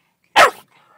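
A single sharp bark from a 14-week-old Malinois puppy, close and loud, cut off quickly with only faint noise after.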